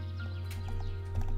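Horse in the video game Minecraft: steady clip-clop of hooves with a short whinny near the end, close and fairly loud, with no talk over it.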